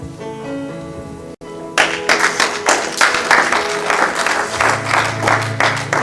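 A church congregation at a memorial service breaks into loud rhythmic clapping after a brief quiet stretch of sustained musical tones, the applause continuing steadily to the end.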